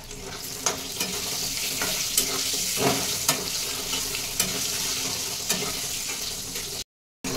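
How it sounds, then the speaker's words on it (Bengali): Potatoes frying in a pan of hot oil with five-spice, salt and turmeric give a steady sizzle, broken by sharp stirring scrapes about every second, with a brief silent gap near the end. "এবার এই আলু কটা ভেজে নেবো"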